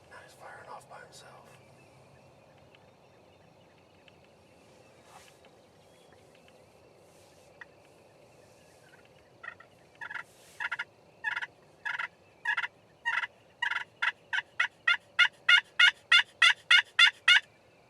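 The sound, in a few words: wild turkey gobbling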